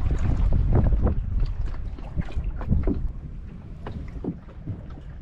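Gusty wind buffets hard and close while sailing a small John Welsford-designed cruising dinghy out on the water, a steady rumbling roar broken by sharper gust thumps that ease off toward the end.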